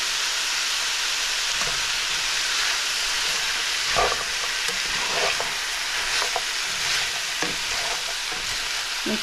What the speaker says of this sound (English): the first thing we do is we cook the ground beef with the onions and the carrots.